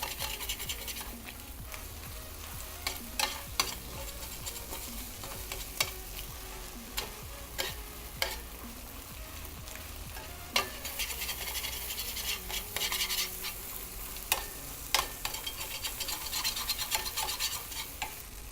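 Chilaquiles of tortillas, eggs and cheese frying in a pan, with a steady sizzle under repeated scraping and stirring strokes of a utensil, irregular and close.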